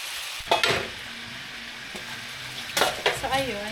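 Garlic and onion frying in oil for tinola, a soft steady sizzle under sharp utensil scrapes and stirring clatter near the start and end.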